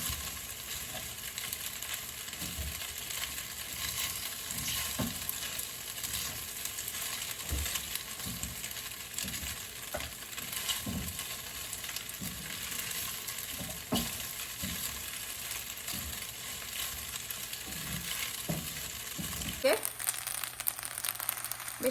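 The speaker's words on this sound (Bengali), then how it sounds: "এটাকে ভালো করে ভেজে তারপর আমি সসটা দিয়ে দেবো" Boiled pasta frying in a home pan, a steady broad sizzle with repeated scraping stir strokes every second or so, continuous throughout, shifting tone near the end.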